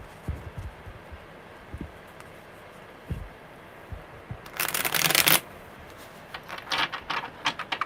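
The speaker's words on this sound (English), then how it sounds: "one more good shuffle." A deck of tarot cards is shuffled close by in a brisk, bright riffle burst, preceded by soft taps and followed by lighter shuffling flutters.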